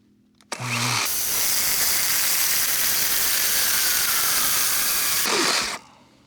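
A power saw cuts through wood at a cabin under renovation, starting with a sharp burst and running as a loud, steady whine for about five seconds before winding down. No one speaks.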